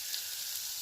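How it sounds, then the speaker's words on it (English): Mr Noodles instant noodles bubble in melted butter in a pan while cooking in a campervan, giving a close, steady sizzling hiss with no pauses and no voices. "noodles are now boiling, which is good"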